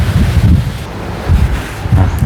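Dry wind blows outdoors in strong gusts that buffet the microphone, a loud, deep rumbling roar that surges and eases in waves, with no talking.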